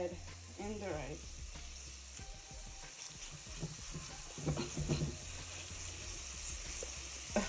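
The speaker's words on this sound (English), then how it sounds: "now we're gonna add in the rice" Rice goes into a hot pot for Jamaican pepper steak and sizzles with a crackling fry, broken by scraping stirs and clinks of a utensil against the pot.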